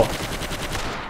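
Rapid MP40 submachine gun fire in the video game Forgotten Hope 2, a short, close burst of evenly spaced shots rattling for about a second.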